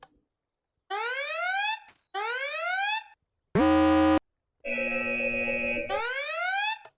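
Alarm from a machine in a Minecraft modpack, playing as repeated rising electronic wails with a short harsh buzzer tone and a pulsing siren between them, loud and clear with no talk.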